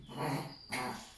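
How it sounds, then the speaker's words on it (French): A dog gives two rough, throaty coughs close by, one after the other, with no talking. "c'est mon chien qui tousse."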